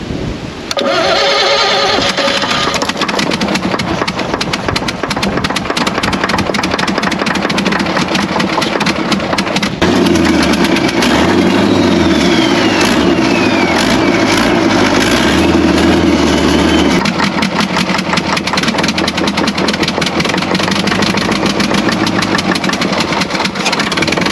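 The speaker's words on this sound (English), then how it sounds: "Watch an abandoned 1950s Rolls-Royce 16-liter turbo diesel engine, Model C8 TFL, fire up after years of neglect." An abandoned 1950s Rolls-Royce 16-liter, 400-horsepower turbo diesel, model C8 TFL, cranks and fires up after years of neglect, then settles into a loud, heavy, rumbling run that surges and deepens midway before carrying on steadily.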